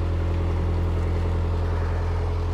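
Narrowboat diesel engine running hard at about 1500 RPM on the Middlewich Canal, a steady low throbbing drone with water noise, loud and continuous throughout with no talk.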